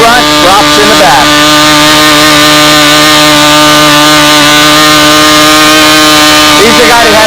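A small model engine drones loudly and steadily as a Farman pusher scale model aircraft flies at a windy fly-in, a buzzing tone with pitch sweeps at the start and end, and someone talks over it.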